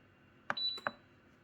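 Two short electronic beeps from a low-carb, starch-reducing rice cooker finishing its cycle, close and clear against a quiet background.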